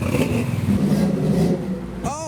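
A custom retro car accelerates away from a car show, its engine rumbling loudly and steadily for about two seconds beneath a voice, ending with a brief rising whine.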